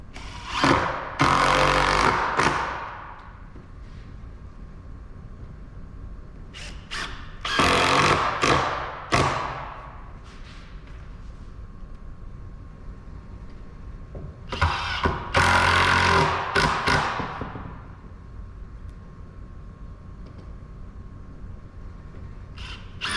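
A power tool drives screws into a wooden balance beam in three bursts of loud whirring, each lasting a couple of seconds and separated by quiet pauses in a workshop, with no speech.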